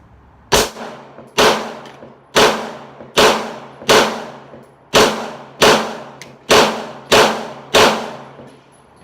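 A Beretta 92FS pistol fires eleven loud, sharp shots at a steady pace, each report ringing out and decaying before the next, with no talking.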